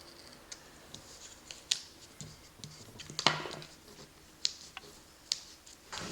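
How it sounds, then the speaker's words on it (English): X-Acto knife trimming excess planner paper: faint, scattered clicks and scratchy cuts, close by and quiet, spaced irregularly. "I'll just go ahead and cut the excess of it with my X-Acto knife"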